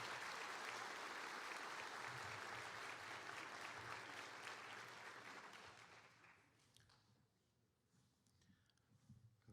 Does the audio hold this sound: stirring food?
no